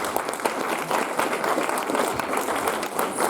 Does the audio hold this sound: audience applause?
yes